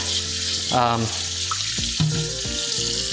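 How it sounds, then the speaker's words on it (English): Plate being washed under a running kitchen tap with dish soap, water splashing steadily near the microphone, with faint clinks and scrubbing over the flow. "This you can wash with just regular dish soap."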